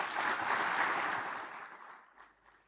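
Broad, dense audience applause at a regional energy research and innovation conference, sustained and fairly loud, then thinning and fading toward the end.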